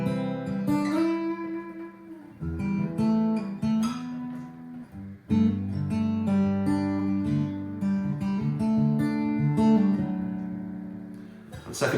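Plucked guitar notes ring out in a steady fingerpicked pattern, close and clear, with arpeggiated chords shifting every few seconds and no voices.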